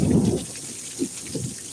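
A thunderstorm in Needles, California, with a low rumble of thunder at the start and a few softer rolls after, over a continuous hiss of heavy rain.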